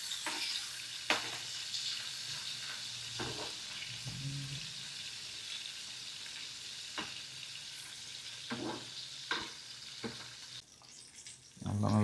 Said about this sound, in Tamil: நல்லா பொரிஞ்சிச்சு